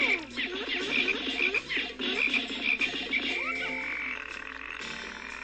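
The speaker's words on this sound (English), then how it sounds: "now we have a frog problem to deal with" Frog enemies croak in the video game Pikmin, a dense run of repeated rhythmic croaks layered over game music, steady and fairly loud before easing slightly toward the end.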